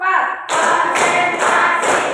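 Children in a classroom perform a patterned ice-breaking clap, the fourth in a numbered series, with loud group clapping bursts landing in a steady rhythm of about three strong beats after a brief spoken cue.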